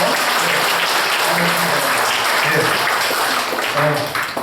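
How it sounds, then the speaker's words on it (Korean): A lecture audience breaks into loud, dense applause that holds steady for several seconds before easing off, with a few voices speaking over it near the end. "박수 한번."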